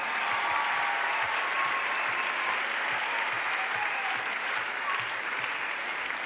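A large congregation at a church crusade applauds, a dense, steady roar of many hands clapping that continues evenly throughout at moderate loudness, with faint voices underneath.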